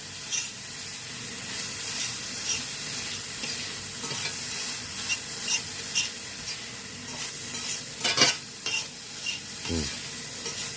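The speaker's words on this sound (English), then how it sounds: "Let's go back to our ham that's sweating off here." Diced ham sizzles and browns in a pan for homemade mac and cheese, a continuous close hiss with scattered spits and a few louder crackles near the end, no voices.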